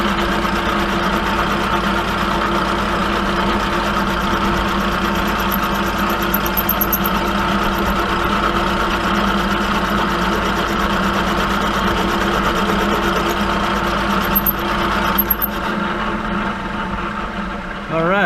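A milling machine with a right angle milling attachment and arbor support hums steadily while boring on slow automatic feed. The mechanical drone is continuous and even for the whole stretch.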